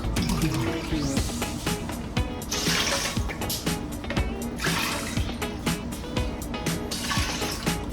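Evaporated milk poured in a kitchen while making Jamaican cornmeal pudding, a loud, close liquid stream splashing and gurgling in several bursts with short pauses between pours.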